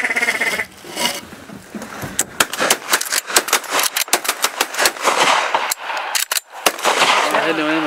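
Rapid volleys of shotgun blasts during duck shooting at ducks, swans and geese, many shots in quick, irregular succession, some close and sharp, others farther off, with no talk between them.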